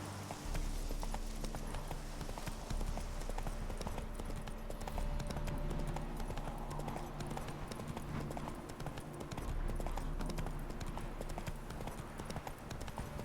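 Horse hooves galloping in The Witcher 3, a steady, rapid clip-clop rhythm that carries on throughout over an ambient game soundscape.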